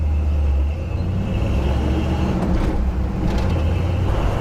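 A 1974 Ford Bronco with a 351 Ford Windsor V8 idles steadily, a deep continuous engine rumble that stays even and loud throughout without revving.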